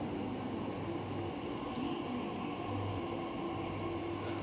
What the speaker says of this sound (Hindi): और फिर ये दूसरी मेट्रो आ गई है मेरी